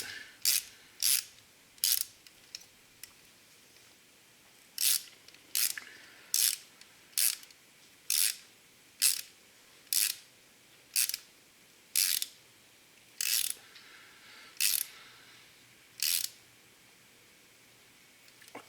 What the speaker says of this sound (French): je les serre pas de trop